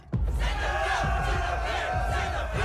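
An anime crowd roars and shouts together in a loud, sustained mass yell that starts abruptly and holds steady for a few seconds before cutting off.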